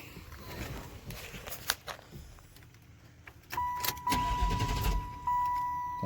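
A 1996 Chevrolet Impala SS being started after sitting: keys jingle and clicks come first, then the engine catches on one crank and settles into a loud, steady idle close by.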